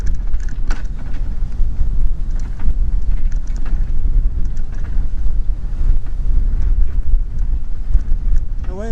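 Wind buffets the microphone of a Union bicycle on a ride, making a loud, continuous low rumble with gusty roughness throughout and no clear talk.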